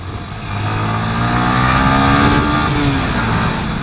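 A Yamaha M-Slaz motorcycle engine rises and falls in pitch while shifting gears, loud and close, with a steady ride-along drone and wind throughout.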